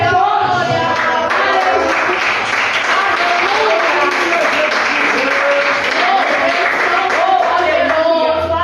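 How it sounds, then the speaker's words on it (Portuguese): Congregation applauding during a church service, a steady dense wall of clapping that is loud and sustained throughout, mixed with background voices. "Aplaudir o nome dele"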